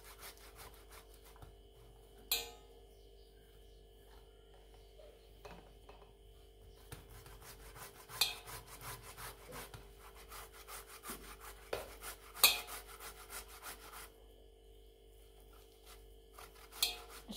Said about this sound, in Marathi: अशा प्रकारे आपण सर्व बटाटे किसून घेणार आहोत